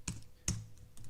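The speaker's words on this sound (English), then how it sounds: "when we're typing it into cell" Computer keyboard keys being typed while entering text into a spreadsheet cell: two sharp, close clicks about half a second apart, followed by a few fainter taps, with no talking.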